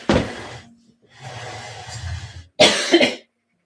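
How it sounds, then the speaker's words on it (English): Three bursts of harsh coughing close to the microphone, separated by short pauses, the last one loudest. "coughing a bit now"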